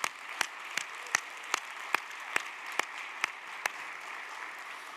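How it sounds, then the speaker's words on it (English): Applause at an awards and launch event honoring partner leasing institutions, a modest crowd clapping steadily with distinct, evenly spaced sharp claps standing out above the softer patter. "Please join me for a big round of applause for all of this."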